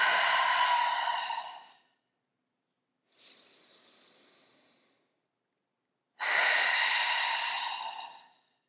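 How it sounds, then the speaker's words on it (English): Three deep breaths taken during a yoga pose: two long, full exhales with a softer, airy inhale between them, close and clear with no talk. "simply just taking 2 deep breaths wherever you are in this pose."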